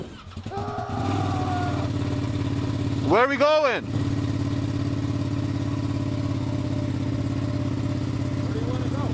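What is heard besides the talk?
KTM 1190 Adventure motorcycle engine running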